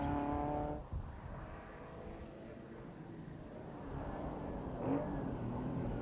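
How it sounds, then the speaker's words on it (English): At the Sartwell hairpin of the 1997 Manx International Historic Rally, a historic rally car pulls away as a faint, distant engine note that fades into a low rumble and then swells slightly toward the end. "Adrian Commode accelerates away."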